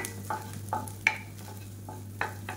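Garlic and ginger cooking in butter over medium heat, a faint sizzle broken by several light, spaced scrapes and taps of a spoon stirring the pan.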